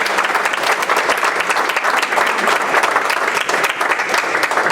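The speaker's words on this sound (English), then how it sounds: "round of applause for Mike" Sustained applause fills a school board meeting room, dense and steady clapping from a seated audience honoring a coach, continuous throughout with no speech over it.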